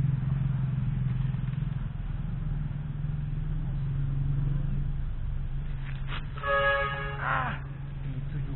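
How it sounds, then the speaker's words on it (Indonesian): A car horn gives a short double honk in the distance at dusk by a fishing spot, cutting through a steady low hum of background noise. "klakson mobil bunyi Pak"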